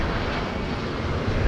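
Airliner engines roar loud and steady at the LAX north runway, a continuous broadband rumble of a jet taking off or landing close by, with no voices over it.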